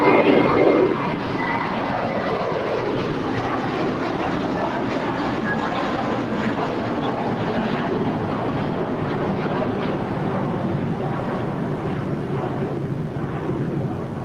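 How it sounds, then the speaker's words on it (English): Spirit Airlines Airbus A321 taking off from runway 25 right at LAX, a steady broad jet roar holding at fairly constant loudness throughout, with no talk over it. "Spirit A321 taking off on 25 right"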